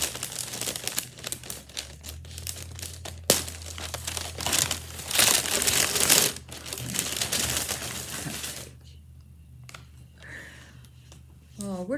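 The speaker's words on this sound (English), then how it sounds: "Let's open up the box and have a look." Packaging paper inside a bespoke sewing subscription box crinkles and rustles loudly and close up as it is unwrapped, with bursts of crumpling, talking at times, and a quieter stretch near the end.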